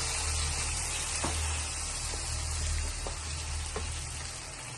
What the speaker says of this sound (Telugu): అల్లం పేస్ట్ వేగాక టమోటాలు, ఉల్లిపాయలు వేసుకొని వేయించుకొని